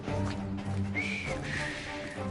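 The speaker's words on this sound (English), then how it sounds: "I've just learned to whistle." A character whistles a short rising and falling tune in the video game Assassin's Creed Syndicate, heard over a steady bed of game ambience and music at moderate level.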